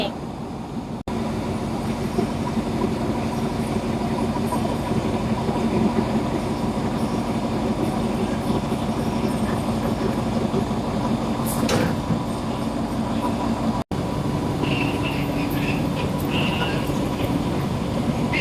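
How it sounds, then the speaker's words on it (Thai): A heavy Thai passenger train being towed out at Bangkok Hua Lamphong station rumbles steadily at close range, a continuous low roar of rolling wagons with a brief clatter partway through. "รถไฟไทยทำถูกลากออกไป กับริ้วขบวนธรรมดาที่"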